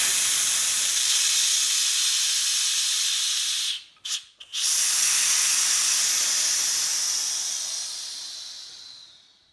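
Pressurised keg filled with Starsan sanitiser spraying out through its spout: a loud, steady hiss that breaks off briefly twice near the middle, then resumes and slowly fades toward the end.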